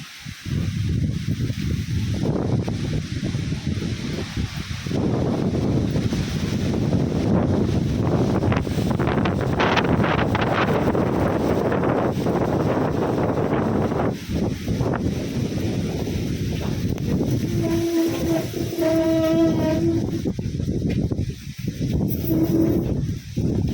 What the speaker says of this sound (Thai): ไม่ฝนธรรมดานะคะลมด้วย ต้นไม้จะหักไหมเนี่ย